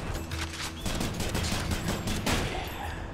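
Rapid gunfire from the video game Hades bursts loudly and continuously in a dense fusillade of shots, with no talk over it.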